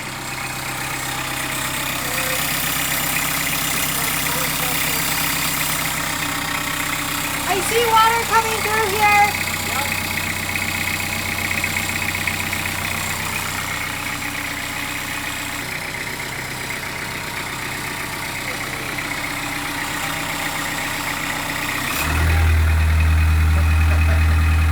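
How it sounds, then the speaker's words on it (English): A diesel engine idles at about 1000 RPM right after its first start, a steady low rumble with a heavy drone that gets louder near the end, while people talk over it. "Nothing beats a diesel engine"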